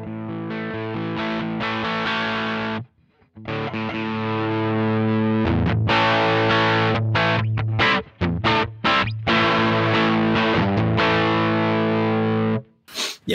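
A heavily distorted electric guitar through a MayFly Audio Sunrise amp simulator at full saturation plays thick, saturated chords with sustained buzz, broken by short choppy stops and muted chugs.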